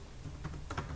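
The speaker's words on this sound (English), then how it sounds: "simply open a new terminal, and I will type here" Keys on a computer keyboard tap out a command in a terminal, a few soft, quick clicks over a low background hum, faint and close.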